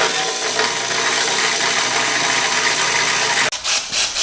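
A power tool runs continuously and loudly at close range while removing a transmission bolt on a Duramax Silverado, then cuts off abruptly before a few short mechanical knocks.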